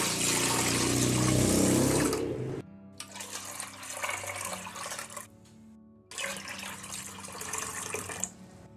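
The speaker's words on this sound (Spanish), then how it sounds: "La voy a llenar de agua." Water gushes into a large pot meant for canning eggplant jars, a loud splashing stream that cuts off briefly twice and resumes, the pitch shifting as the pot fills.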